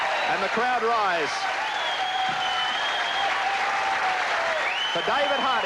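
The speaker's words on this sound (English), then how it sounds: "for David Hardy, a standing ovation." A crowd rises in a standing ovation for bowler David Hardy after his win in the 1986 Goldpin Classic men's final: sustained, full applause throughout, with someone commentator talking over it.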